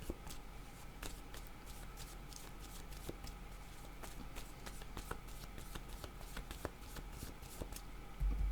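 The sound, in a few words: shuffling and drawing cards from a card deck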